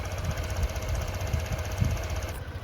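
A Honda Click 125i scooter engine idling after a throttle body cleaning and ECU reset, a steady low rumble with faint periodic knocking pulses and a high whine, close by with no talk.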